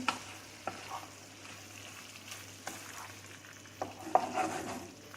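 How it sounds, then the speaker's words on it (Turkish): Soft stirring and scraping of chicken sauté in a frying pan over a faint steady sizzle, with a few light clinks of a utensil against the pan. "Şöyle bir hafif karıştırıyorum."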